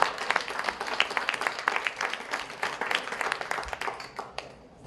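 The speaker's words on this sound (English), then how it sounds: "give a quick round of applause to Great Plains College for what it's become" A modest crowd at a Great Plains College and City of Swift Current signing gives a brief round of applause, individual claps distinct and uneven before trailing off near the end.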